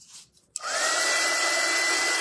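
A hair dryer switches on after a brief quiet moment and runs steadily, loud and close, drying a freshly cut stencil in a scroll-saw woodworking shop.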